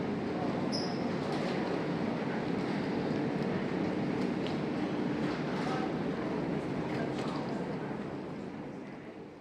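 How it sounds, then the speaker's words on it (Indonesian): An airport rail shuttle train at Suvarnabhumi Airport in Bangkok rumbles loudly and steadily from nearby, a dense rolling roar that eases off toward the end. "teman-teman bisa naik shuttle atau Skylines atau MRT dari Bandara Suwarnabhumi seperti ini"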